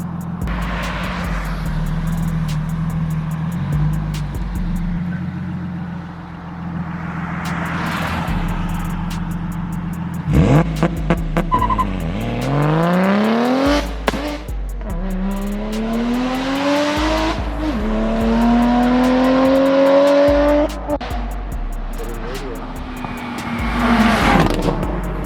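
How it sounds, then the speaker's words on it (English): A car approaches and passes on a road in Mexico, its engine rising and falling with rapid revving gear changes and pitch sweeps, loud and close, with a second surge of engine noise toward the end. "Oh, there's a car coming."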